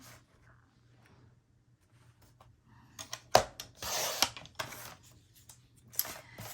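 Cinnamon-colored cardstock is trimmed to size for a baby album. After a quiet start, close rasping cuts and slicing strokes come in irregular bursts, with soft handling noises in between.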